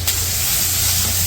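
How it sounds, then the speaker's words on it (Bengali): Onions and green chillies hit a hot wok for a village-style fish and taro curry, producing a loud, constant sizzle from start to finish. "কড়াইয়ে পেঁয়াজ কাঁচামরিচ দিয়ে দিল।"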